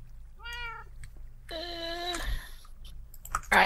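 A cat familiar in a modded Minecraft game meows twice, one short high meow then a longer drawn-out one, clear and close with light mouse or key clicks around them.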